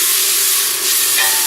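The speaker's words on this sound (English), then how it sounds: "That's the noise we're looking for, the sizzling." Chopped onions sizzle in hot olive oil in a home kitchen pan, a steady, loud, close hiss of frying that runs unbroken with a slight brightening near the end.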